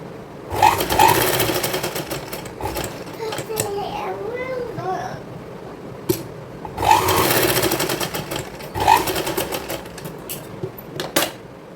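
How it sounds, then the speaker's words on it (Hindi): A sewing machine stitches around triangular fabric pieces for a lehenga made from an old saree, in loud rapid bursts separated by pauses, with someone talking in the gaps. "अब इनको हम पूरा चारों तरफ से सिलाई लगा के थोड़ा सा एक जगह पर खुला रखेंगे।"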